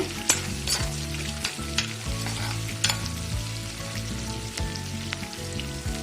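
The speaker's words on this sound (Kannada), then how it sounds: "ಈರುಳ್ಳಿನ ಚೆನ್ನಾಗಿ ಫ್ರೈ ಮಾಡ್ಕೊಳ್ಳಿ." Onions frying in ghee in a pan, a steady close sizzle with crackling pops and occasional stirring scrapes, no voices.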